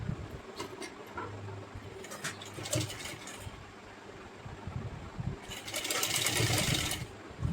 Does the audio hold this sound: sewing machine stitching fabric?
yes